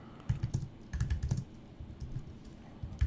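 Typing on a computer keyboard in quick bursts of close key clicks with short pauses between them, no voices.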